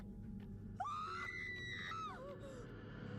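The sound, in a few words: generic scream sound effect in a TV drama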